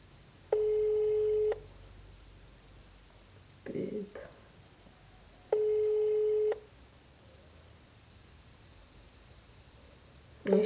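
Two long electronic telephone ringback tones sound on a call that nobody answers, each a steady buzz about a second long, with a brief muffled noise between them and faint background hiss.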